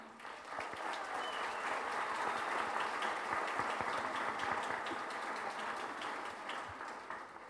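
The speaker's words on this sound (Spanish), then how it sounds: "Fuertes los aplausos a tal reconocimiento" Sustained audience applause at an award ceremony as a diploma is presented, a dense steady wash of many hands clapping throughout without a break.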